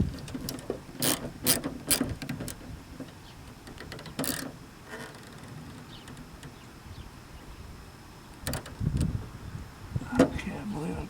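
A ratchet clicks in short bursts while a nut is tightened on an Astro van door handle, with quick rapid ratcheting runs separated by quieter pauses and occasional handling noises, recorded close in a quiet setting.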